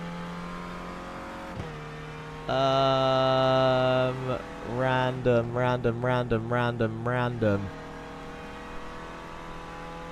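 A Renault Clio Cup race car in a sim racing game, driven onboard around Snetterton: loud, buzzy engine revs up and holds high, then rises and drops in a rapid series of gear changes. Talk is heard alongside.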